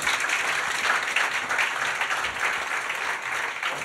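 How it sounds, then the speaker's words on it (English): An audience at a Toronto club applauds during a live interview event, steady moderate clapping throughout, slightly distant and without talk over it. "Give a big round of applause for that"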